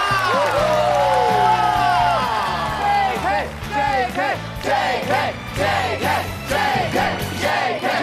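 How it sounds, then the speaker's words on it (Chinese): Studio audience on a Chinese TV variety show applauding and cheering for a guest, loud crowd noise with rising whoops and shouts over a musical sting, a voice speaking within it. "掌声送给我们的 JK 哥"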